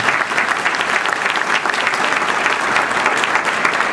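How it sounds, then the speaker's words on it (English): An audience at a health care reform forum in Crystal Lake claps, a loud, dense, continuous round of applause with no pauses. "Give her a big clap."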